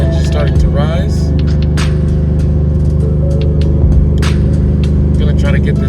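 A Ford Mustang engine running on E85 fuel holds a steady revved drone around 3,000 RPM, a loud close rumble with low harmonic hum throughout, with a voice speaking over it.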